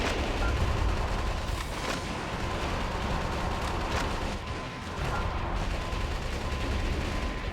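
Dense, continuous gunfire and explosions roar through a Metal Wolf Chaos mech battle, a loud unbroken barrage with scattered heavier booms and no talking.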